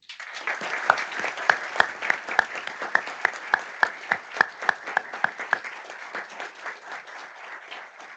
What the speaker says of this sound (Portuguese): começar essa noite com uma salva de palmas calorosa